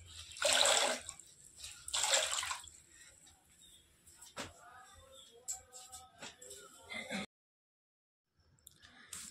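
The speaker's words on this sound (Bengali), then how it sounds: "এই যে মোছামুছি আমি শুরু করে দিয়েছি" Wet sloshing and wringing of a floor mop with water at home, a few splashy bursts up close followed by quieter dripping and soft wet swishes, then a brief silence.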